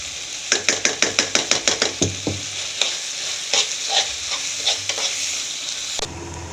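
Chicken frying in a pan with added mayonnaise, for shawarma, as a utensil scrapes and stirs it in a quick run of strokes, then steady sizzling with a few scattered clinks.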